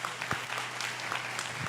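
A church conference congregation applauds in a steady, dense wash of clapping that fills the short stretch at even loudness, with a faint voice briefly audible underneath.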